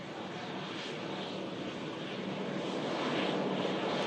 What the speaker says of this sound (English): Two-hour, 12-minute flight from Vienna for this Embraer 195 LR.